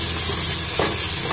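Small banana pieces fry in ghee in a pan with semolina, giving a steady, close sizzle with a faint stir partway through.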